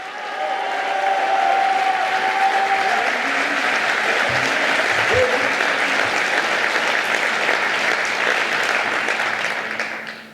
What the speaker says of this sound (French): Des applaudissements, mes chers amis, pour ces visionnaires dont nous sommes les héritiers.